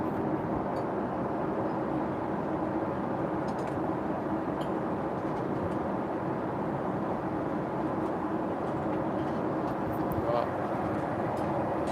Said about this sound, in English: just enjoy the plane noise for a sec